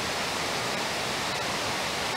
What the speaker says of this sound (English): Waterfalls and the river Kasia.